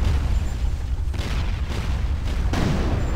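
Ship cannons fire in a naval battle in the video game ArcheAge: several heavy booms over a dense, continuous rumble of combat noise, loud and sustained throughout.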